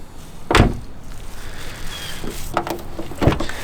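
A car's passenger door closes on its own with a firm thud, followed by a few lighter latching clunks and knocks in a quiet outdoor setting.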